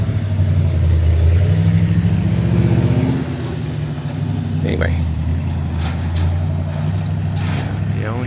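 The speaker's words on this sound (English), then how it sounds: "That's a very loud truck. Just pulled up." A heavy truck engine rumbles loudly nearby on a street in Paonia, Colorado, then settles to a lower idle as it pulls up, with a voice speaking over it.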